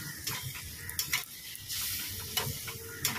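A paneer and potato curry cooks in a pan, soft sizzling broken by a few sharp scrapes and clinks of stirring, quiet and close with no talking.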